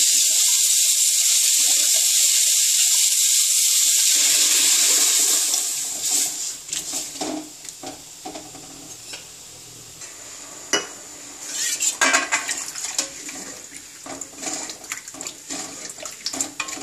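Dal water poured over sautéed vegetables in a pan for sambar, starting as a steady hissing sizzle, then settling into bubbling, splashing liquid with scattered clinks as it simmers.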